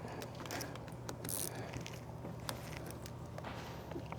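A ratchet works bolts loose on the engine of a Ford F250 with the 6.7L diesel, giving faint, steady mechanical clicking and rattling that runs through the whole stretch over a low hum in a shop setting.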